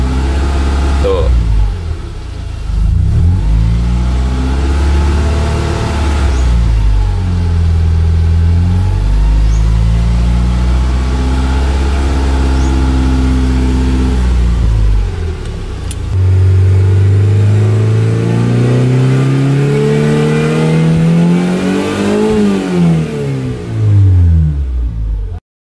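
The swapped engine in a Honda Accord Maestro CB7 is revved repeatedly in neutral, its loud close drone rising and falling through several sweeps in pitch while someone talks over it.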